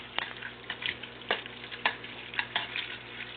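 Sauce with Italian seasoning stirred in a pan, soft wet scraping and squishing strokes with light sizzle, close and irregular, no talk.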